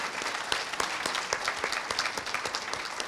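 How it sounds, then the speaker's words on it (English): Applause from an audience at a palliative care panel discussion, a continuous wash of clapping with distinct individual claps popping through, moderately loud and steady for a few seconds. "Would you give Molly a round of applause?"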